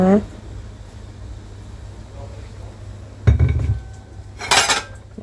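Dishes being sorted out of a dishwasher, with sharp bursts of clattering plates and clinking near the middle and the end over a steady low hum.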